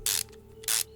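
Two loud, brief bursts of ratchet clicking in Car Mechanic Simulator 2026 as a wrench spins off throttle body bolts, separated by a short pause over a steady low game hum.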